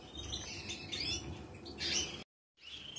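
Canaries in a breeding room chirp and tweet in bright bursts close by, a busy chorus of calls that breaks off briefly into silence before resuming.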